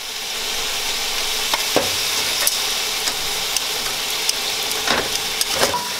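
Chicken sizzling steadily in a skillet, a loud continuous frying hiss broken by a few soft scrapes and taps of a utensil.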